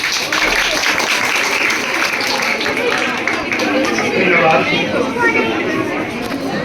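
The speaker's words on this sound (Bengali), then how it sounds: "একটা হাত তালি তো দেওয়া যায়।" A crowd of parents and students at a school prize-giving ceremony applauds steadily, dense clapping mixed with chatter and children's voices throughout.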